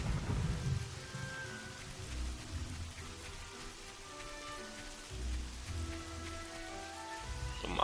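Steady rain falls in the video game Fable, a constant hiss with low rumbles that swell and fade like distant thunder, and no voices over it.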